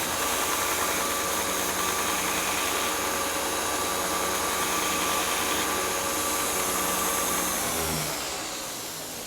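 A small decorative sword washer is ground on a steady, loud grinding machine that hums and whines without a break, then slowly winds down at the end.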